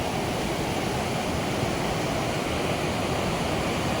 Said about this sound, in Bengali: এই পরিবেশের সৌন্দর্য আর এই জলের আওয়াজ